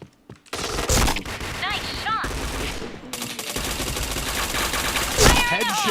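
Bursts of automatic gunfire from the PointBlank shooter game, loud and close, with rapid shot rattles and ricochet-like whines across the span, mixed with other in-game effects and faint voice sounds.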